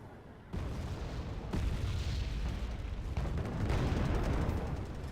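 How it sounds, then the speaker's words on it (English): Artillery fire on an M1 Abrams tank in the Wargame Red Dragon strategy game: a steady, heavy broadband rumble that swells in stages, with dull booms rolling over one another and no clear gap between them. "And the artillery going for the kill on the M1 Abrams once again, but not managing to get the hit."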